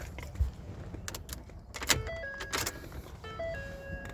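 Keys jangle briefly inside a Ford truck, a 2009 to 2014 model with a fuel pump fuse fault, among scattered clicks and small handling noises; no one speaks.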